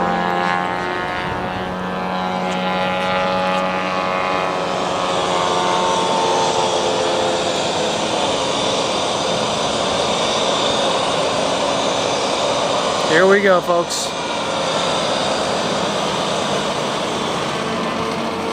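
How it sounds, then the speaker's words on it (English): A large 60% scale J3 Cub RC model float plane takes off at an RC airshow, its engine droning loud and steady and rising in pitch. Someone speaks briefly over the engine near the end. "here is a big, huge J3 Cub taking off. Seaplane, float plane."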